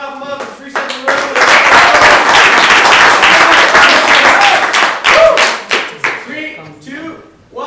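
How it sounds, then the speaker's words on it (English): An audience at a hackathon training session claps, starting with scattered claps, swelling into dense, loud applause, then thinning to a few final claps, with voices mixed in. "Everybody clap them up"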